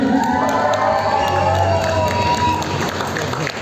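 A crowd in Yakutsk cheers and applauds to welcome the fighter Fedor Emelianenko, loud continuous shouting, whoops and clapping filling the whole stretch.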